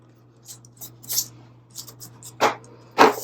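Scissors snip through planner paper in a few short, close cuts, quiet at first and then two louder crisp snips near the end, with no talking over them.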